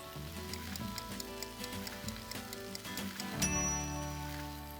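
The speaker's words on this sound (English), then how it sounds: "the potatoes are sizzling away" Potatoes with rosemary sizzle steadily in a hot pan, a continuous crackling hiss with faint clinks, no voices.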